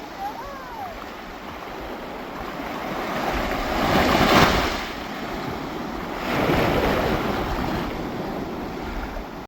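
Ocean surf at Diveagar Beach washes in under steady wind noise, with two louder swells of breaking waves rising and fading across the stretch.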